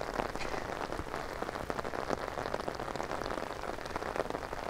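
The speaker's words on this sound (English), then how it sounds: "you can hear the rain pitter-pattering on my brolly" Dense rain pattering steadily on a taut umbrella close by, a constant crackling patter with no voices.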